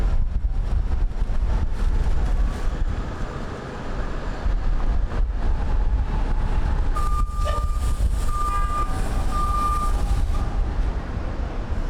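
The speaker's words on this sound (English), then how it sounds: "That's the sound of the New York City public bus right in front of you, kneeling." A New York City public bus kneeling at a street stop, a long pneumatic hiss and rumble of the air suspension over heavy idling engine noise, with faint tonal beeps near the end.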